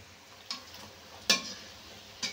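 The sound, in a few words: taler bora palm fritters frying in oil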